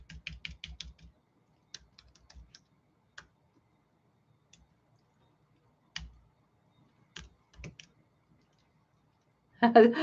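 Typing on a computer keyboard, scattered bursts of quiet clicky keystrokes with pauses, fairly close, ending in a louder clatter.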